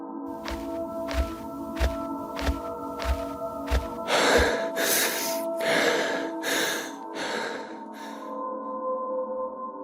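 Heavy, ragged panting from two friends who have just climbed to the top of a hill, several loud breaths in a row over a steady musical drone after a run of rhythmic thumps.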